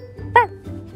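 A person imitates a dog's bark with one short, sharp yip, close to the mic, and faint murmuring before and after.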